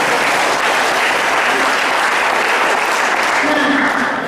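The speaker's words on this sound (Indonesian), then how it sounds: "Mau tepuk tangan?" An audience at a talk bursts into dense, steady applause, loud and close, sustained evenly throughout with no voices on top.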